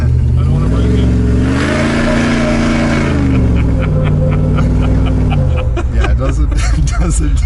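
A 6x6 Hellcat-powered Jeep Wrangler pickup rolls slowly around a corner, its loud engine droning and rising in pitch then settling, heard from inside with some background chatter.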